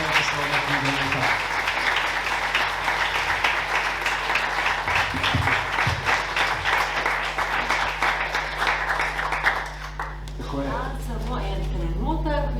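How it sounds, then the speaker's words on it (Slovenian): Sustained audience applause at an award ceremony for the best translated non-fiction book of the year, a broad, even clatter of many hands continuing for several seconds, thinning out toward the end as a voice begins speaking. "dajmo še en aplavz, prosim, za najboljše prevedeno neposlovno knjigo leta"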